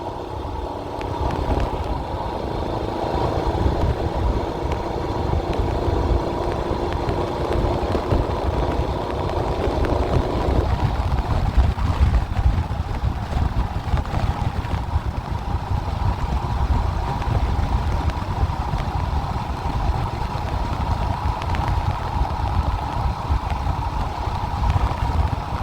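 A Royal Enfield Himalayan motorcycle engine drones steadily at about 70 on the road, with constant low rumble and wind buffeting throughout; no talking.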